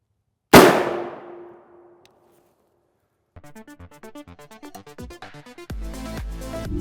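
A single rifle shot of M855A1 from an 18-inch 22 Creedmoor upper slams into a weathered RMA 1155 Level IV armor plate. It gives a sharp, loud crack with a ringing tail, followed seconds later by a run of irregular crackling pops.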